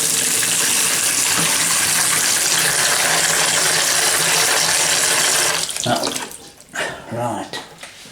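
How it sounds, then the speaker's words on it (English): Warm water runs steadily from a kitchen tap into a bowl, a loud continuous gush that breaks up into splashes and trickles as it is turned off near the end. "I'll put a bit more in, just warm water."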